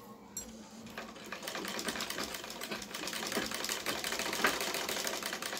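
A sewing machine stitches a boy's fatua fabric held from the reverse side. It makes a steady, moderately quiet mechanical rattle that continues throughout.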